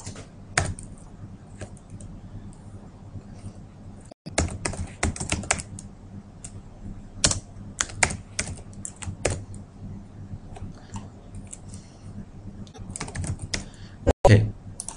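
Close-up typing on a computer keyboard, irregular clicky keystrokes in clusters with pauses, while a person speaks quietly throughout.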